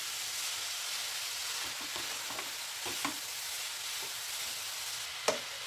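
Grated carrots frying in ghee for gajar ka halwa, a steady bright sizzle throughout with occasional soft stirring scrapes and one sharper clack near the end.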